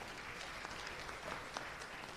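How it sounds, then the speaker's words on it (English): A seated audience at an intellectual festival session gives a hand of applause, soft, distant clapping that carries on evenly with a few sharper claps standing out. "Let's give them another hand of applause,"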